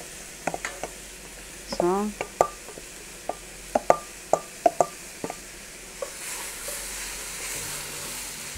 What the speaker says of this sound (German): Die Paprika kommen dazu.